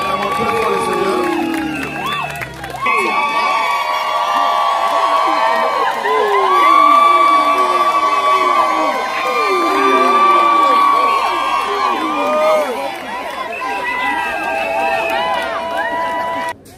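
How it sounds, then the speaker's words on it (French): A wedding congregation at a nuptial blessing in Paris cheers and acclaims the Lord, with loud sustained crowd shouting, whoops and overlapping voices that start abruptly and carry on together until the end. "Acclamons très fort le Seigneur."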